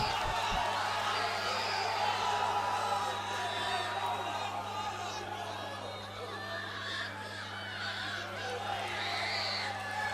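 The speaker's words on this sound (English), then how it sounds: "This is one fired up crowd." Fight-night crowd at a UFA Real Fight Promotion MMA event roaring steadily throughout, with scattered screams and shouts rising above a dense wash of cheering and chatter, plus a low constant hum underneath.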